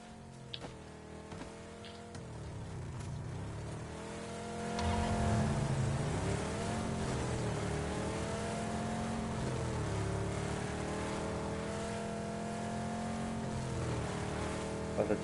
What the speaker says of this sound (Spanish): Yo me cojo mi coche, me piro.